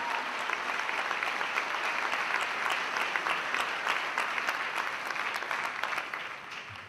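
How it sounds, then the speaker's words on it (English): An audience at a motivational talk breaks into dense, continuous hand clapping that holds steady throughout before easing slightly at the very end, heard at moderate distance. "I hate that weak hand clapping."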